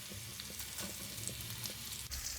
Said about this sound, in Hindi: ये सारी चीजें हम हल्की सी फ्राई करेंगे